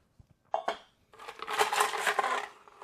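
Ice cubes clink and clatter into a cocktail glass for an Irish Old Fashioned, with a couple of sharp close drops and then a longer rattling spill of cubes.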